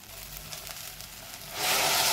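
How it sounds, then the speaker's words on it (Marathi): Hot water is poured into spiced pea rice in a pressure cooker, giving a soft sizzle that swells suddenly into a louder, bright hiss partway through. "मी इकडं आधण गरम करून याच्यामध्ये घालणार आहे"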